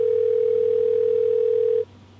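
A steady telephone dial tone holds loud and unbroken for nearly two seconds while a call is being placed, then cuts off abruptly, leaving faint background hiss.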